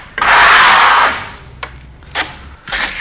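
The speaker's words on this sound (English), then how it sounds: "So as we trowel, we go back into the material and we keep it consistently smooth." A trowel drags across FirmoLux Piatto plaster finish in a loud rasping sweep, followed by a few shorter scraping strokes, close up and without speech.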